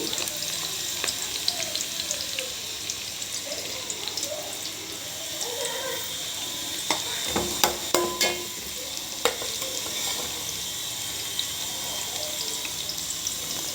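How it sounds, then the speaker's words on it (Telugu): Onions and green chilies frying in hot oil, a steady crackling sizzle with a few louder stirring clatters partway through, no talking. "ఆయిల్ కూడా కాగిపోయింది దీంట్లో ఇదండి ఇవన్నీ వేసేసుకోండి ఉల్లిగడ్డలు పచ్చిమిరపకాయలు కలర్ మారే వరకు వేయించుకోవాలి"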